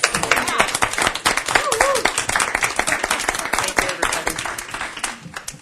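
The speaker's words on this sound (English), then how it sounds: "at least a round of applause" A meeting audience of a regional advisory council gives a farewell round of applause, dense clapping running steadily throughout, fairly close, with faint voices murmuring underneath.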